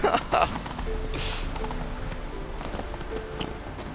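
Clip-clop of horse hooves trotting over ground in The Witcher 3 under a game-style ambient backdrop, fairly steady rhythm at moderate distance.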